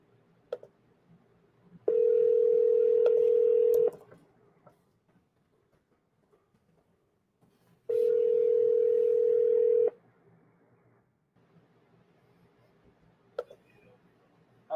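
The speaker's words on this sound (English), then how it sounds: "pick up the phone and start dialing." Telephone tones on a cold sales call: two steady, loud, unbroken beeps about two seconds long, spaced roughly six seconds apart, over quiet low background noise.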